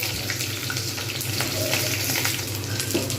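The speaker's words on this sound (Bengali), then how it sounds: "পটল যেহেতু তেল গরম হয়ে গেছে এত যতক্ষণ পর্যন্ত না এটা লাল হবে ততক্ষণ পর্যন্ত কিন্তু এটা ভাজবো" Pointed gourd (potol) frying in hot oil, a continuous close crackling sizzle with scattered sharper pops, steady throughout and without talk.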